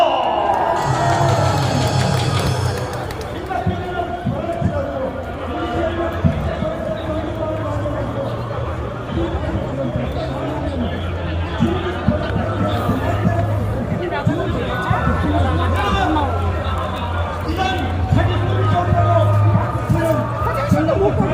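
A large outdoor crowd at a Liberation Day event in Gwanghwamun, Seoul, cheering, whooping and chattering continuously over a steady low hum, with loud crowd noise throughout.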